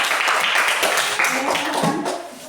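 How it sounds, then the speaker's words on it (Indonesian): Applause from a classroom group greeting a presenting team, a steady dense patter of many hands that runs loud and continuous from start to finish, mixed with some voices. "Tepuk tangan dulu untuk kelompok babol."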